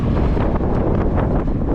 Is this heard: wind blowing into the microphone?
yes